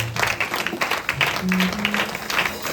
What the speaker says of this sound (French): On peut acclamer très fort, Seigneur.